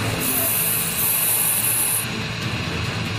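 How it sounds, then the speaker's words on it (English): A home security system releases pepper spray fog in a steady, loud, high hiss that runs for about two seconds and then cuts off, leaving a lower rushing noise. "it'll blanket them with pepper spray fog"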